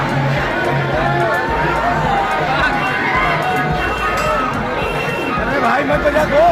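A large, dense crowd of cinema-goers gathered for a film screening, a continuous babble of many voices with shouts rising above it, loud and close throughout.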